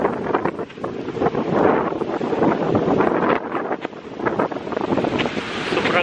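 Strong seaside wind buffets the microphone near Fort Jesus in Mombasa, a continuous loud roaring rush with gusty surges and a faint wash of waves beneath, steady throughout with no talking.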